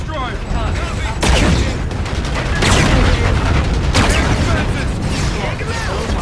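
A warship in the Infinite Warfare video game fires on an enemy destroyer, loud booming cannon blasts and rapid gunfire layered in a dense, continuous battle roar.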